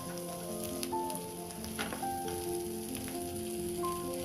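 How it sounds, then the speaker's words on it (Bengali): Chapa fish frying in a pan with coriander leaves makes a soft, faint sizzle with light crackles throughout, quiet and continuous, with no one talking. "ধনিয়া পাতাটা হালকা সেদ্ধ হওয়ার আগ পর্যন্ত আমি আর একটু ভেজে নিচ্ছি"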